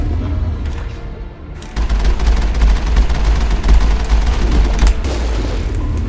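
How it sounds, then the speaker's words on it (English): Sustained gunfire in the Mass Effect video game as shots hit a support beam, with a dense, loud rattle of rapid shots and booming low rumble that kicks in suddenly and continues steadily. "Am I just shooting a support beam?"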